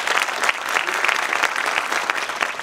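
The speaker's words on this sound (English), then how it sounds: "can we just get a round of applause for these two right here?" Crowd at a high school Wall of Fame ceremony giving a round of applause, a loud, dense, continuous clapping from many people close by throughout.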